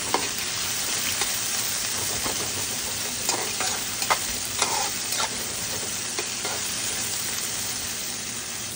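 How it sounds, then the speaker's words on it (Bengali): Spice paste with green chillies and salt frying until brown, a dense constant sizzle with intermittent spoon scrapes and clicks against the pan, close up and without speech throughout. "এখন ভালো করে পেস্টটা একটু ব্রাউন কালার করে নেব"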